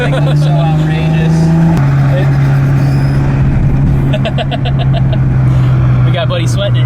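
Infiniti G37 engine revving near a widebody Supra, a steady loud engine drone with pitch shifts and a rising rev partway through, with people talking over it.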